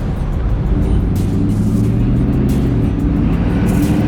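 Steady, loud engine and road rumble from a Coyote V8-powered Ford Bronco built by Velocity Modern Classics, driving with an automatic transmission, heard from inside the cabin with a slight change in pitch partway through.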